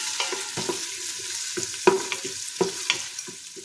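Onions and green chilies being sautéed in oil and ghee after tempering cumin, cinnamon and cloves, with a steady soft sizzle under repeated scraping stirs of a spoon against the pan.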